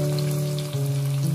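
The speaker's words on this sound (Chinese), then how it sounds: "这个时候我们的豆腐差不多已经煎好了" Tofu pan-frying to a golden crisp sizzles steadily and close, a dense crackling hiss with a faint tonal hum beneath, brief and continuous with no voices.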